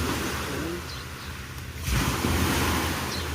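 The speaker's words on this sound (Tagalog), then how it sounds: "Kusog hangin." Strong wind roars steadily across the microphone, mixed with rushing surf, growing louder and harsher in the second half.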